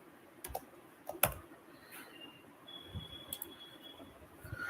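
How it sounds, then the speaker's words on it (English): Typing on a computer keyboard, heard as irregular light clicks and taps spread over several seconds, with a few sharper keystrokes standing out against a quiet background. "Please mind my typing. I'm very clumsy."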